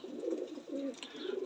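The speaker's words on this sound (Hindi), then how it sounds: "सेबे वाले चीने कबूतर है माशाल्लाह" Sebe wala Cheena pigeons coo softly nearby, a few low, rounded rolling calls in steady succession with no voices over them.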